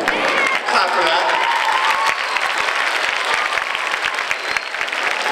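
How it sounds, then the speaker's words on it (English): Audience applause fills a hall during a talk on education deficiency, a dense, loud wash of many hands clapping together. It holds steady for about five seconds with scattered cheers mixed in, and no speech rises above it. "Clap for that."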